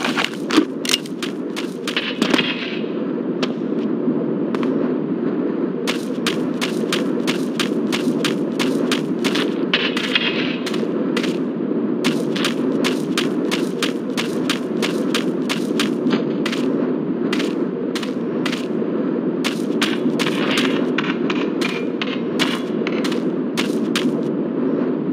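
Gunfire in the PC game Indiana Jones and the Infernal Machine, Babylon level: rapid, sharp shots crack in dense bursts almost without pause over a steady low rumble, loud and close throughout.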